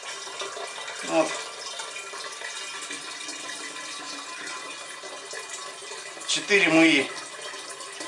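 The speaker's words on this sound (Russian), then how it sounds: "вот его и будем заливать в бочку" Liquid is poured into a barrel in a steady trickling stream with a couple of louder splashing surges, while someone speaks briefly over it.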